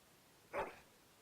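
A large dog in the fantasy role-playing game Dragon Age: Origins gives a single short bark, brief and fairly clear against quiet surroundings.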